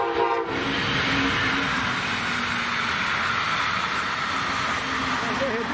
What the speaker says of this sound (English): Just one train.